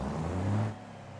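Truck engine in BeamNG Drive running steadily at a low, droning pitch, swelling briefly louder before easing back to a lower idle-like rumble.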